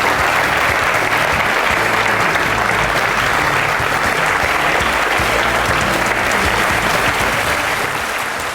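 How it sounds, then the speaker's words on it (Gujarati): A television studio audience gives sustained, loud applause to welcome a guest onto a courtroom-style talk show, the clapping dense and continuous from start to finish with a faint low murmur beneath. "તાળીઓ વગાડીને સ્વાગત કરો ડોક્ટર ફારૂક અબ્દુલ્લા"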